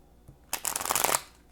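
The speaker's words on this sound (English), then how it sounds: "We're going to do 2 more shuffles, and I'm going to cut the deck" A tarot card deck being shuffled in one burst of riffling, papery flutter lasting about half a second, close and fairly quiet, with a soft tap just before it and silence around it.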